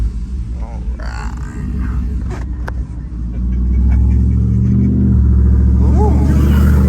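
Stock 5.3 V8 truck fires up through a Borla XR1 muffler and settles into a steady, deep idle rumble close by, with people talking over it.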